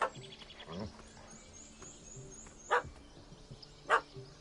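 A dog, the puppy that chased a cat up a tree in The Witcher 3 video game, gives a few sharp barks and yips at moderate distance, spaced out over a quiet game ambience without speech.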